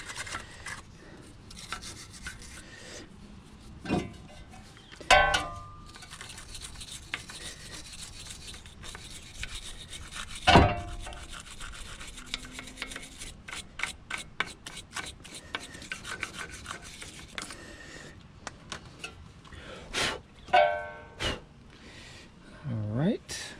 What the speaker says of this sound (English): We're going to clean up the areas where the pads rub against, just to make sure it's nice and clean.